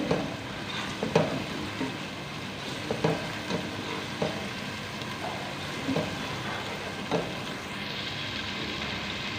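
Two tablespoons of garlic-ginger paste fry in a pan with a steady close sizzle, punctuated by repeated light scrapes and taps of a stirring spoon.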